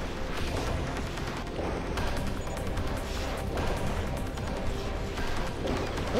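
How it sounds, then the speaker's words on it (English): Rapid gunfire in the video game Beyond Good & Evil, repeated shots and crashing impacts rattling over a dense action soundtrack, moderately loud and continuous. "Who is shooting at me?"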